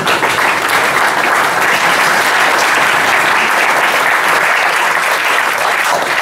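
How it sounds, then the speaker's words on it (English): Loud, sustained audience applause at a cloud-native technology talk, thick continuous clapping from a large crowd that holds steady throughout. "I guess that was the second round of applause for Alexis, or should we do another one?"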